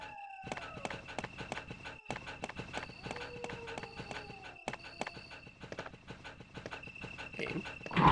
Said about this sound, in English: Definitely not a well-behaved dog.